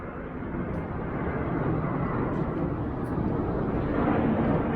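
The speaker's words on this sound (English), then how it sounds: "There's one plane leaving somewhere." An airplane leaves from a nearby airport, a steady broad jet roar that builds slightly over several seconds, heard outdoors from a bus stop in Brussels with no talking.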